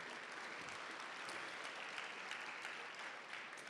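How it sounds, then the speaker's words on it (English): An audience at a senior student-athlete reception claps steadily, a dense, even wash of many hands sustained throughout, with no voices standing out. "Yeah, you can clap for that, sure."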